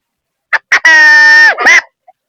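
Two short puffs are followed by a long blown tone that bends down and ends in a quick rising squawk, a rooster crow imitated with a call device.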